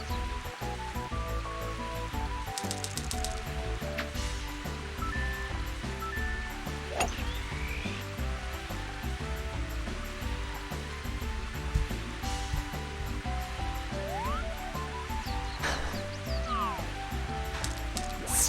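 Strong 40 mph wind with rain sweeping across a golf course, a dense, steady broadband roar of gusts and rainfall that holds throughout at an even, fairly loud level.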